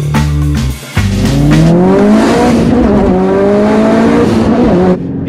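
A Porsche Boxster 718 engine revs loudly nearby, pitch climbing and falling through throttle blips after a brief dip, a strong raspy flat-four tone filling the clip without talk.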